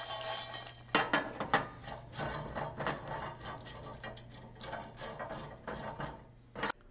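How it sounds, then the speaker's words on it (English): Chestnuts rattle and clatter as they are shaken in a metal roasting pan, a busy run of close metallic clinks and scrapes that rises and falls in bursts. "every once in a while give it a good shake so they cook all around"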